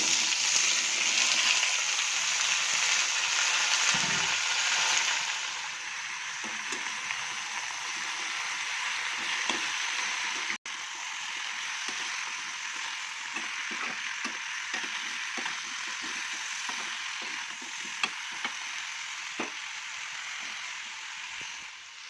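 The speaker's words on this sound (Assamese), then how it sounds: "তেলত দিছোঁ নহৰু আৰু জলকীয়া।" Garlic and chili frying in oil, a close, steady crackling sizzle that is loudest at first, then settles lower with scattered pops and stirring clinks.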